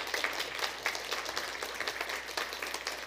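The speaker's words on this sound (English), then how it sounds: "Give them a round of applause." An audience at a business gathering gives a round of applause: a crowd's clapping with a choppy, pulsing texture, individual claps surfacing through the wash at moderate loudness.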